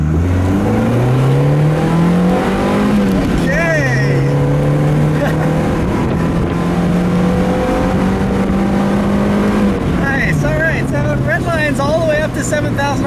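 A 1997 Mazda MX-5 Miata's 1.8-liter four-cylinder engine revs hard on a back road, a loud, continuous buzzing drone that climbs in pitch, drops with a shift, then climbs again, heard from inside the car.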